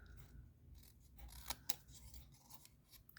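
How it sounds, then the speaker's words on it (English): Scissors hand-cutting paper greeting words for a stamped shaker card, heard as quiet close snips with two sharper cuts in the middle, otherwise a faint, hushed room. "I am actually just going to kind of hand cut this greeting."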